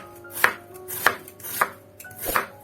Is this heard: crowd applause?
no